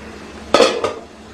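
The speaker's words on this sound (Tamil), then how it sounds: "இப்போ நான் இட்லி சட்டி வச்சுருக்கேன்." A metal idli steamer pot is set down on a hard surface, giving two quick close clanks, the second a lighter rattle, in an otherwise quiet kitchen.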